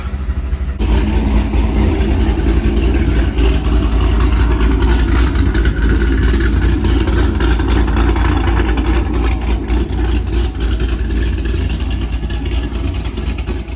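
A Corvette LS7 V8 engine runs steadily at a strong, even idle after a cold start, close and loud, with a deep rumble that holds throughout and no voices.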